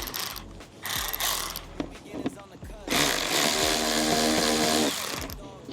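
Ratcheting tool clicks and whirring as 8 mm screws are removed from the front bumper of a BMW 440i, in bursts with a longer run near the end, up close, with someone talking over it.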